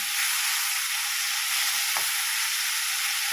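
Chopped tomato fries in a pan with a dense, even sizzle close by, and a single soft scrape of stirring partway through; no one speaks.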